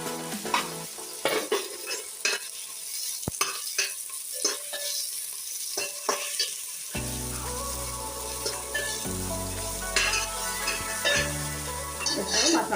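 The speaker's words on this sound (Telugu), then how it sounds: "ఇప్పుడు అల్లం వెల్లుల్లి వేసుకున్నామండి." Ginger and garlic frying in a pan for bagara rice, with stirring scrapes and clinks over a soft sizzle that thickens into a steadier fry in the second half.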